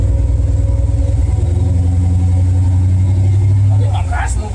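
A box Chevy engine with a newly fitted exhaust rumbles loud and close in a deep, steady, throbbing burble that holds for several seconds before dipping slightly at the end.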